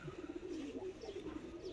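A large breeder pigeon, one of a set of golden and prized birds at a breeder's home, coos in a steady low rolling burble, faint and continuous with little else around it.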